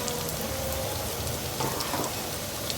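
Capsicum fries in a pan for chicken macaroni, a dense, steady close sizzle like rain on a hot surface with occasional brief stirring scrapes and no voices.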